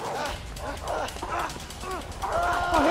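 Several dogs chasing in the video game A Way Out bark and yip in quick bursts, with whiny howling tones over a low rumble, sounding close and slightly processed.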